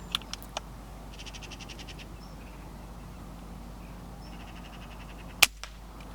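A single sharp air rifle crack fired from a hide at a crow perched on a hay shaker near crop silage. It stands out loud against quiet outdoor ambience, with scattered bird calls and clicks earlier.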